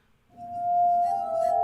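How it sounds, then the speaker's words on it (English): A glass harmonica sounds a single sustained, ringing glassy tone that swells in and holds steady, bright and fairly loud, with faint overtones shimmering above it and no voices. "That is the sound of the glass harmonica."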